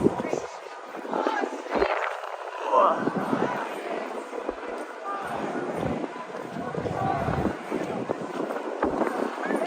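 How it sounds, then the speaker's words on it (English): Wind buffets the microphone outdoors at a street protest, a loud rumbling roar rising and falling in gusts, with voices and crowd noise underneath. "that wind is starting to come in. It's getting even windier."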